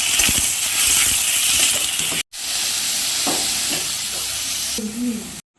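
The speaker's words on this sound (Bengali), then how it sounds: "দিয়ে আবারও একটু ভালো করে নেড়ে, ভালো করে নাড়াচাড়া করে একটু ভেজে নেব ভালো করে।" Fish scales and onions frying in a pan, a loud steady sizzle with a few stirring scrapes, briefly cut off twice.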